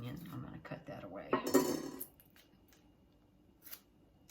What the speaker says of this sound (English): There's a little bit of kind of dried onion. I'm going to cut that away.